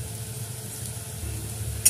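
Onion, garlic and green chili fry in oil in a pan, giving a steady close sizzle with a soft low rumble beneath and a brief scrape near the end.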